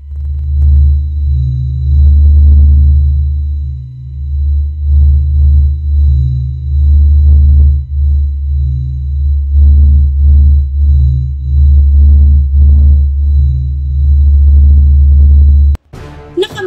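Sonified sound of the Sun: a deep, steady droning rumble with a faint high whine and pulsing, breathy swells, loud and continuous for about sixteen seconds before cutting off abruptly.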